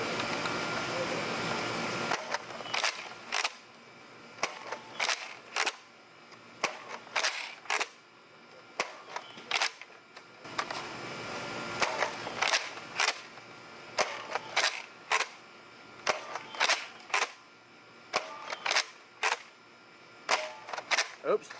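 A Nerf Fortnite tactical shotgun blaster fires over a chronograph in a quiet room, a string of sharp, close snaps spaced a second or two apart, with pump clacks and handling noises between shots.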